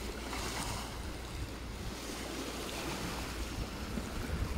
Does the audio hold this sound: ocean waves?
yes